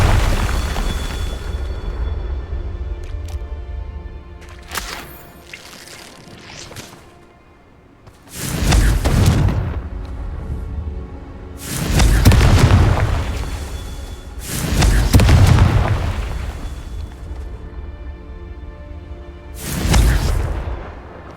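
Confringo fire blasts in Hogwarts Legacy burst out as several separate loud whooshing explosions, each a few seconds long. They are spaced apart by quieter rumbling gaps.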